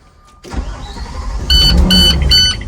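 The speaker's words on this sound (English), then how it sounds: "Starting the bus, allowing my pressure to build to 120 to 140 psi" A school bus engine turns over and catches during a pre-trip air brake check, rising from quiet into a steady close rumble with a high electronic tone pulsing over it.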